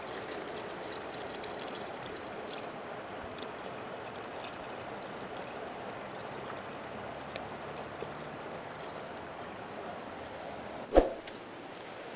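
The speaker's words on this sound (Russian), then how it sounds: "Так, вот теперь добавляем наш бульон" Broth poured into a sauce for Adyghe gedlibzhe makes a steady, soft liquid rush that runs without a break, with a single sharp knock near the end.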